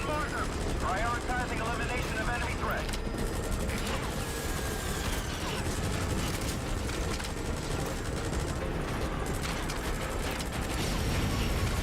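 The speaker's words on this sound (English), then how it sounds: "Support helicopter has arrived." In Metal Gear Solid V: The Phantom Pain, a support helicopter arrives amid dense game noise: a constant loud rotor wash and mechanical clatter, with a voice talking over it.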